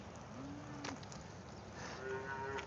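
Farm cows moo out in the rain, two long low calls a second or so apart, the second rising and held, with steady rain hiss behind them.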